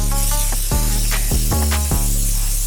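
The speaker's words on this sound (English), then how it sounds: "just to spray my pan a little bit" Cooking spray hisses from a can onto a pan in a home kitchen, several short loud bursts with brief gaps between them and no talking.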